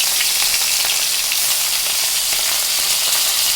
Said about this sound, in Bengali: আমি তেল বসিয়ে দিয়েছি এবার আমি এক এক করে মাছ ছেড়ে দিচ্ছি